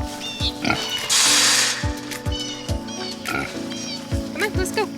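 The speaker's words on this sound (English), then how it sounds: "Good morning, pigs." Farm pigs at morning feeding time, grunting and oinking repeatedly in short rhythmic bursts up close, with a loud hissing noise briefly and a person talking over them.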